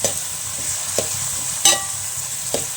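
Prawns fry in a pan with sautéed onion and tomato, a steady sizzle broken by a few sharp scraping stirs of a spoon, close and alone without voices.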